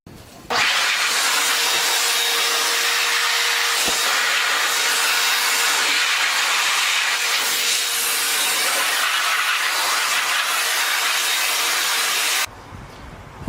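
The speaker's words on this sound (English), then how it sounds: "I'm gonna start letting it dry, blowing it off with the blower" A blower pushes a steady, loud rush of air to dry a rinsed part before it is coated with KBS Coatings products; the hiss runs unbroken for about twelve seconds and then cuts off abruptly.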